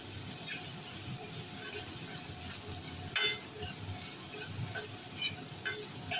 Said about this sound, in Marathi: उभा चिरलेला कांदा घालूया, छान लालसर होईपर्यंत परतून घेऊया